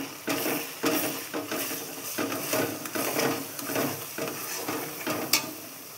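Chili and turmeric powder stirred into hot sizzling oil gives a steady soft fry with rhythmic scraping strokes of a spoon against the pan, close and fairly quiet, with no talk.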